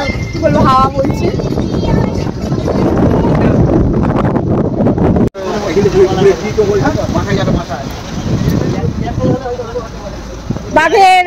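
Strong wind buffets the microphone on a boat in the Sundarbans, a loud continuous roar with a brief break midway.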